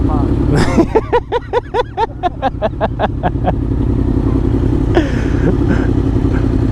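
A Yamaha MT motorcycle, MT-10 and MT-07, with an aftermarket exhaust, revving hard in Switzerland, a loud rapid run of about a dozen blips and pops over a rumbling idle, then a few scattered cracks, with people chatting nearby.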